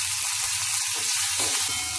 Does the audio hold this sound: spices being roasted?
yes